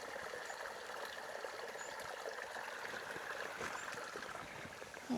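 A small stream trickles steadily and softly, a faint continuous watery babble with no voices.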